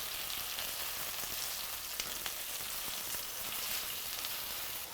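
Eggplant fries in a generous amount of oil with a constant, fairly soft hiss and sizzle and small scattered pops throughout, with no voices.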